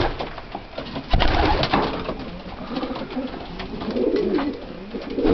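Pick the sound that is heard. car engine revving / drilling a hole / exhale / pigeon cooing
pigeon cooing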